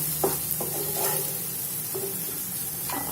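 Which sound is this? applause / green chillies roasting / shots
green chillies roasting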